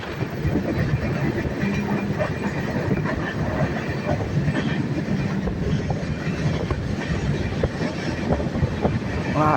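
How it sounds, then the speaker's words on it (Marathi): The Deccan Express rumbles along at speed with a steady roar and rhythmic clattering of wheels on the rails, heard from inside, with no voices. "ट्रेन फास्ट चाललेली अजिबात सिग्नल नाही"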